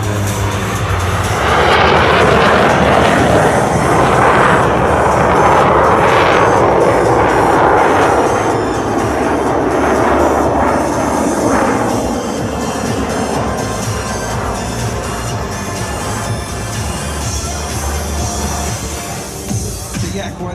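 Yak 110 jet aircraft powered by a GE J85 engine at the California Capital Airshow, a loud roaring jet swell that peaks then slowly fades as it passes, dense and continuous.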